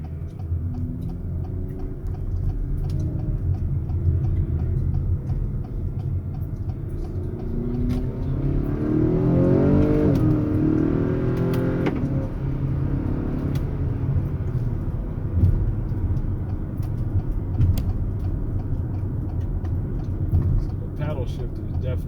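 A 2021 Acura RDX engine hums and rises in pitch as it accelerates at night in Sport mode using paddle shifters, a steady rumble swelling midway, with a voice talking over it.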